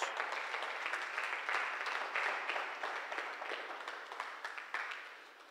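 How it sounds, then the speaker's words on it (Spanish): A church congregation applauds together, a steady wash of clapping that holds for several seconds before thinning slightly toward the end, fairly soft and diffuse as if heard from within the room. "Vamos a darle un aplauso a Dios."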